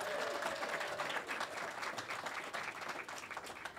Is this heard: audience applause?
yes